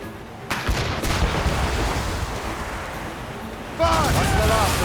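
Naval cannon fire booms in Assassin's Creed Rogue, heavy blasts and rumbling over a continuous sea-battle din, with shouted voices and crew chatter in between.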